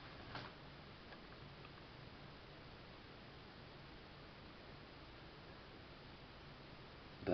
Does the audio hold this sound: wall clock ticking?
yes